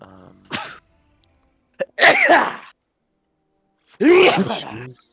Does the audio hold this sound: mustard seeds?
no